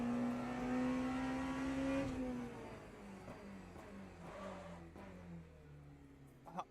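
A hypercar engine revs loud and close on the Spa circuit, with a high rising and falling whine early on. It then drops to a lower, steady drone over the rest of the run.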